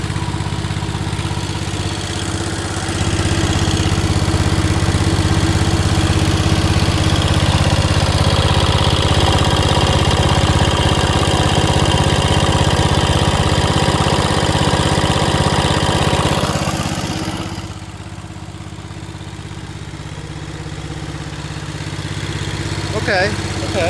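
A 1973 John Deere 140 H3 lawn tractor engine idles loudly and steadily close by, with a low, even drone that cuts out near the end and leaves a quieter stretch.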